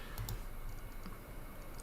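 A few light clicks of a computer mouse while working on a web design page, faint and close, scattered sharp ticks over a low steady background hum, no talk.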